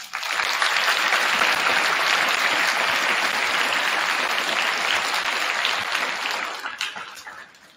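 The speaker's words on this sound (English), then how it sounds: "please join me in another round of applause for our brats" Military children are applauded by a school crowd at a middle school Veterans Day assembly, a loud, dense and sustained burst of clapping that holds steady for several seconds before tapering off at the end.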